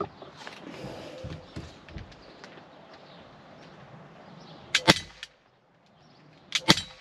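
A Walther P99 DAO 6mm airsoft replica pistol fires two sharp, snappy cracks a couple of seconds apart, each with a slight echo. Quieter handling noises and shuffling come before the shots.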